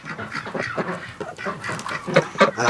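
Ducks kept in a shed alongside brown hens quack and chatter in short, irregular bursts close by, with some softer clucking mixed in.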